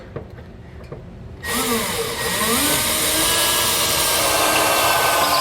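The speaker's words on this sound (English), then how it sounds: "take a smaller bit and just make that pilot hole until you poke through the bed" A power drill with a small bit bores a pilot hole up through the bed of a 2019 Ford F-250 Super Duty truck. After a quiet start it cuts in suddenly and whines steadily and loudly, its pitch wavering as it bites.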